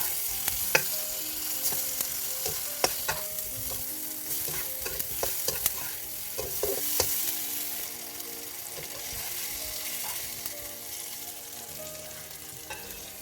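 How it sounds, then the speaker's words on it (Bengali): Tomatoes fry with turmeric, chili and coriander powder in a pan, a steady soft sizzle broken by sharp scraping clicks of stirring, close and with no talk. "এই তো টমেটোগুলো ভাজা হয়ে গেল"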